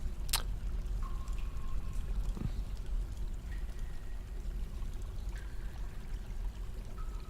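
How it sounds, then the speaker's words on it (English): Water moves about in the Dwarf Fortress video game as a constant pouring, streaming rush, with a few brief clicks and soft tones over it. "A single bit of water just kind of moving about."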